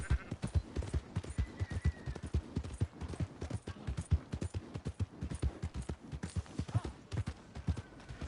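A horse's hooves clip-clop steadily and rapidly in Red Dead Redemption 2, a continuous close trotting rhythm with faint ambient game sounds behind.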